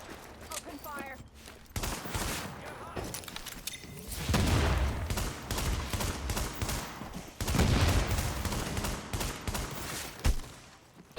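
Sustained gunfire from The Division video game, loud bursts of shots and booms running almost the whole time, with a voice briefly heard early on.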